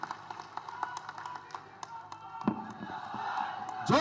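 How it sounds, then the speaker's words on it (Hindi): Scattered clapping from an audience welcoming a speaker at a political gathering in a park, sparse individual claps building into louder crowd noise and cheering toward the end. "जोरदार तालियों के साथ स्वागत होना चाहिए साथियों"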